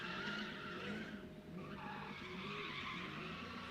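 A Mustang GT drifts in a drift pit, its tires squealing and skidding continuously over a roaring engine, loud and sustained with a brief dip midway; no talking.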